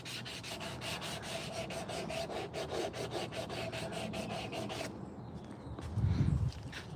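Sandpaper rubs rhythmically on a hand-carved wooden spoon, quick repeated scratchy strokes close up for about five seconds, then stopping, followed by a brief low thump.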